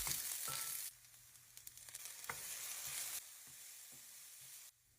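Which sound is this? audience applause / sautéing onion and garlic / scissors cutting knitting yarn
sautéing onion and garlic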